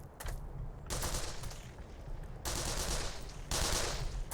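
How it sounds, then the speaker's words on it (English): Bursts of gunfire in the video game Black Mesa, sustained loud crackling volleys in several stretches with brief lulls between, fairly close and dense. "Are you shooting at me or are you shooting at something else?"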